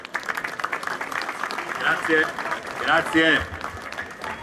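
An audience at a public event applauds a senator of the Italian Senate's ninth commission with a sustained wash of clapping under a voice, which briefly says a word of thanks.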